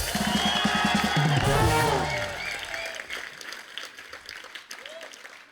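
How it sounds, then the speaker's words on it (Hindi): Studio audience of a Hindi comedy talk show breaks into loud applause and cheering, with music and voices over it, then the clapping thins out and fades to a lighter background. "बच्ची और गीता के लिए जोरदार तालियां।"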